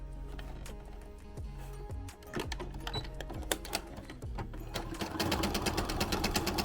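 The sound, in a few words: sewing machine stitching along a seam line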